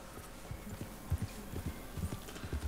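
Horse hooves clip-clopping in a Wild West video game, a steady run of soft, low thuds at a walking-to-trotting pace, fairly close and alone.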